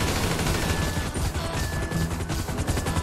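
Shootout in Grand Theft Auto V during the Bureau Raid, with dense, loud, continuous bursts of automatic gunfire close by and no pause throughout.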